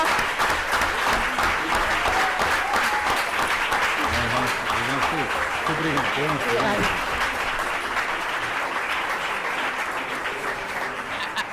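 Sustained audience applause at a research symposium closing ceremony, a full steady roar of clapping from a large room with brief voices mixed in, lasting the whole stretch.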